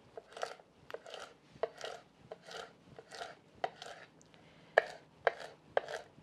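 Nopal cactus pads being chopped on a cutting board for nopalitos rancheros, a steady series of crisp knife strokes in quick rhythm with a few sharper chops near the end, close and clear with no talking.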